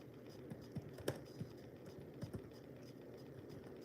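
Faint, sparse keystrokes on a computer keyboard, several separate taps against a quiet room hum with no talking.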